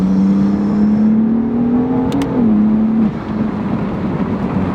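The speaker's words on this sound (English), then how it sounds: "you can hear the blow off noises" A BMW F8x S55 turbocharged engine fitted with an ARM intake drones steadily with a slight rise in revs, and a couple of short, sharp turbo blow-off bursts come through near the middle.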